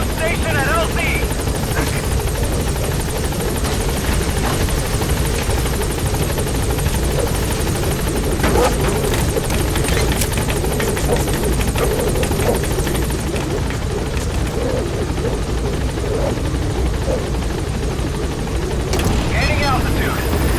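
A helicopter in Metal Gear Solid V: The Phantom Pain climbs away from a landing zone, its loud, close rotor thrum and turbine whine steady and continuous throughout, with radio-style voices talking over it.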